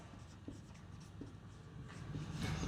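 Chalk or marker writing a chemical equation on a board during a chemistry lesson, soft scratchy strokes with small taps, close and faint, no voice over it.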